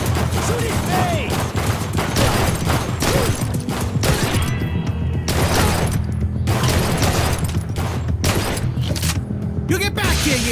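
Gunfire in the shooter game Blue Estate: dense, continuous bursts of shots and thudding booms fill the whole stretch, loud and close, with voices talking over the barrage.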